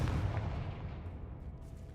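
Confringo fire-blast spell cast in a Harry Potter video game: a loud, deep booming burst with rumbling crackle that slowly decays over two seconds, no voices.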